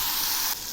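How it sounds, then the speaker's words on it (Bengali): Shrimp coated in salt and turmeric hit hot mustard oil in a kadai, giving a loud, steady, hissing sizzle that drops slightly in intensity near the end. "এবার আমি লবণ হলুদ দিয়ে মেখে নেওয়া চিংড়িগুলো ছেড়ে দিচ্ছি"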